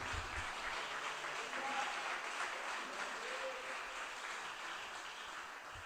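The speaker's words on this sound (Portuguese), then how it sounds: "dê uma salva de palmas bem forte" A church congregation gives a strong, joyful round of applause during a service, a steady wash of clapping that holds evenly throughout and tapers slightly toward the end, heard from a distance.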